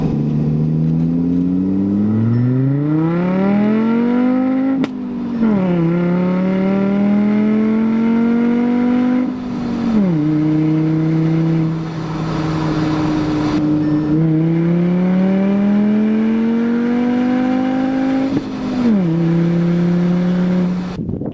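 A Volkswagen with a custom exhaust pulls up a driveway in first gear, its engine droning loud and close in long rising pulls broken by several shifts or throttle lifts, with no speech over it.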